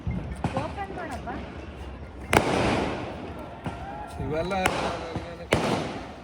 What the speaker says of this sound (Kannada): ಪಟಾಕಿ ಹೊಡಿತಾ ಇರೋರು ಯಾರು